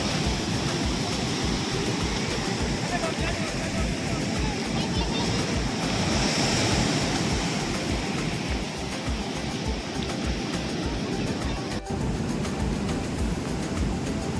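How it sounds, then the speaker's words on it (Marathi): High ocean waves crash against a rocky shore at Harihareshwar on the Konkan coast, a loud, continuous roar of surf with heavy wind buffeting the microphone and faint voices in the background. "लाटा एकदम उंच उंच लाटा येऊन राहिल्या बाजूवर"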